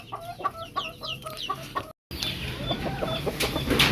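White leghorn chickens cluck and squawk close by in a repeated, busy run of calls, broken by a short gap before more hens continue over barnyard noise.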